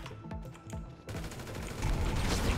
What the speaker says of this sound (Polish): Co to był za wybuch?